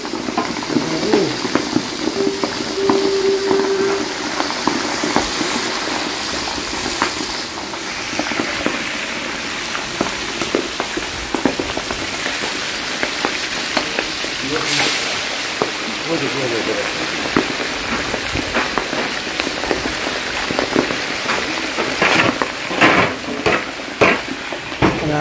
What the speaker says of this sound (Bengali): এখন মাছ ভাজা হচ্ছে, মাছ ভাজা হয়ে গেছে